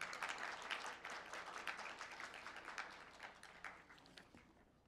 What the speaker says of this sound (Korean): 여러분 축하의 박수 부탁드리겠습니다.